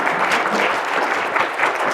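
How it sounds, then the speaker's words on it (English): A short burst of audience applause after a presentation at a partner info session on data analytics for cloud apps, dense clapping held steady for about two seconds. "Big applause for Paul."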